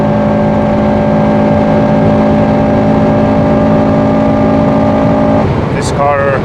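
A Honda Civic Type R FN2 drones steadily at high speed on the autobahn, a loud constant engine and road roar from inside the cabin, with a brief shift in tone near the end.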